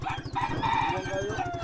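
Rooster crowing at a family home: one short, strained crow rises over a low rhythmic background hum, with faint household sounds around it.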